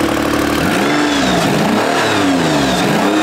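An all-wheel-drive V6 with an exhaust leak is revved, a loud raspy roar rising and falling in quick swells over a rough idle base.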